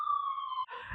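An ambulance siren drives by, a steady loud wailing tone that cuts off abruptly as traffic noise takes over.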